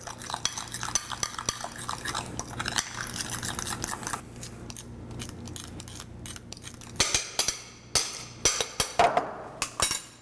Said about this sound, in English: So let's take our fork or whisk and mix it all together.